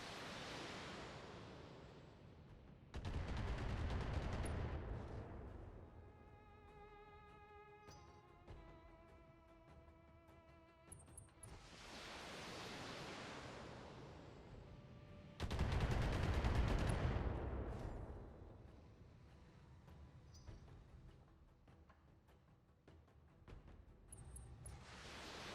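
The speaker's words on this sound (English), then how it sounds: "That's a lot of missiles." Barrages of missile fire in the BattleTech mech combat game: two loud roaring bursts of explosive rushing noise, each a few seconds long, with quieter rumbling and tonal game sounds in between.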